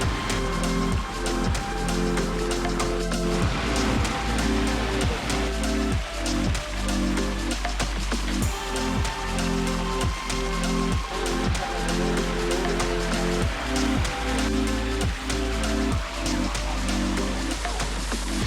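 Backyard pond waterfall, a single fall pouring into the pond pool: a loud, continuous splashing rush of water that stays steady throughout, close by and alone.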